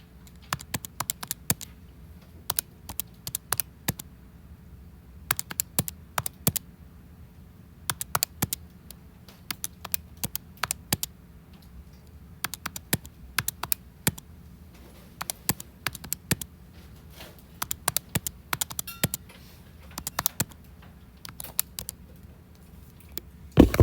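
Calculator keys click in short irregular bursts as numbers are entered one after another, each group followed by an enter press, with crisp close taps and quiet pauses between the groups.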